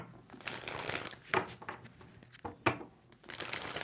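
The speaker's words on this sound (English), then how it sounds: "Two more shuffles for Scorpio." Tarot cards riffle and crinkle close up in a few quick shuffling bursts with soft papery slaps between them, quiet and with no talk.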